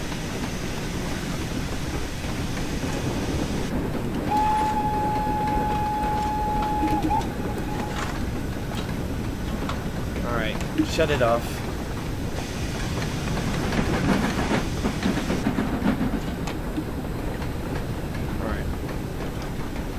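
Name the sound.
LMS Fowler 4F steam locomotive arriving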